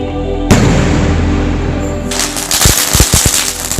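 Firecrackers and fireworks bursting during Diwali celebrations, a loud sustained crackle and hiss, then a rapid burst of sharp bangs and pops near the end, with no voices.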